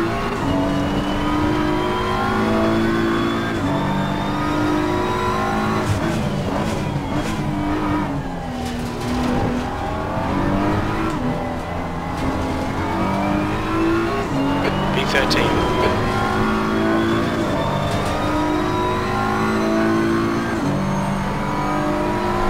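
BMW M4 GT3 race car engine in Assetto Corsa Competizione at Misano, a steady loud drone with rising and falling revs through gear changes across the whole stretch, and no talk over it.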